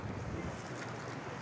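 Boats out on the sea off Jiwani Beach near the Iran border, with steady wind buffeting the microphone and a constant low rumble of surf and motors, no voices.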